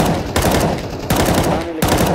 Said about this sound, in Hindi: शॉट आ रहे हैं केयर करो